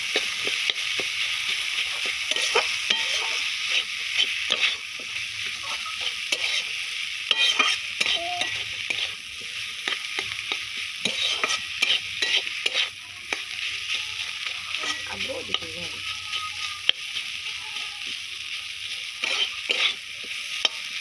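Potato and meat spring roll filling being stirred in a frying pan, a steady sizzle with continuous scraping and stirring strokes throughout, close and moderately loud with no talking.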